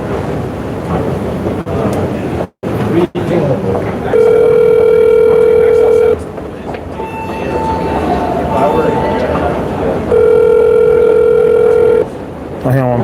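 A phone call goes unanswered in a busy public place near escalators, with ringback tones sounding in repeated long steady beeps over loud background rumble and some talking.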